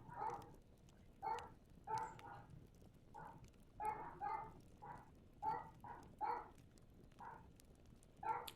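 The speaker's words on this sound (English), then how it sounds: "Why are the dogs barking?" Dogs bark in a visual novel video game, in short repeated bursts every second or so at moderate distance, over a quiet background.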